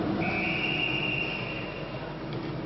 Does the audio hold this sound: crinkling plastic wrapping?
no